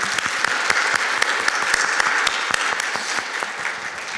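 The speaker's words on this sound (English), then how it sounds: "If we can just give them a quick round of applause." Steady applause from an audience at an alumni awards evening honouring distinguished graduates, dense continuous clapping with sharp individual claps standing out, filling the whole stretch without talk.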